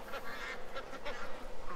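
Ducks being fed call out in short, nasal honking quacks, several bursts in quick succession close at hand, overlapping loosely with no speech.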